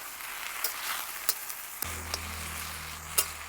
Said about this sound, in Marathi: भाजी चांगली तेलात परतून झाली